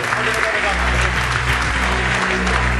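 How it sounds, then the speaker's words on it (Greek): Audience applause fills a live Greek music night venue, steady dense clapping sustained throughout, close and loud, with no pauses. "Θέλουμε θερμό χειροκρότημα για τα παιδιά που θα παίξουν"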